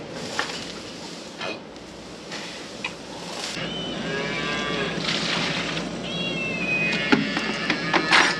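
Calves moo repeatedly at feeding time on a farm, with several overlapping calls, some near and loud, others farther off, over a steady background rumble.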